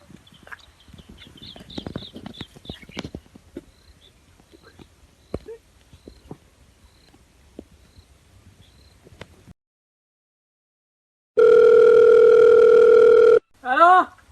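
A telephone tone sounds on a call as a loud, steady, sustained electronic tone lasting about two seconds near the end, after scattered clopping and thumping noises, followed by a brief voice.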